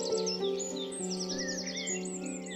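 Cartoon bird chirps and tweets in quick, repeated high trills over a sustained musical backing, loud and continuous with no voices.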